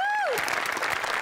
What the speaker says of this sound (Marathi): सगळ्यात आधी आर्ट डिपार्टमेंटसाठी आपण सगळे जोरदार टाळ्या वाजवूया